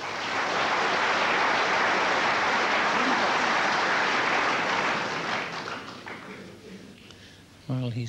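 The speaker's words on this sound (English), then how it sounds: "'s got applause for getting around the table" A snooker crowd at the 1990 World Championship applauds in a steady, dense wash that fades toward the end, and a commentator's voice comes in as it dies away.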